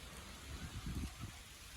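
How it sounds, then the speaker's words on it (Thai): Light December drizzle falls in Thailand as a faint, steady hiss of patter with a few soft, low thuds mid-way, and no voices. "ฝนตกพรำๆเดือนธันวาฝนตก"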